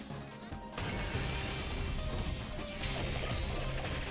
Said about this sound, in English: especially like the glass crashing stuff